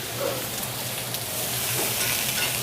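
Vegetables for a tofu curry stir fry sizzle in a hot pan, giving a steady, close crackling hiss that carries on evenly without talking.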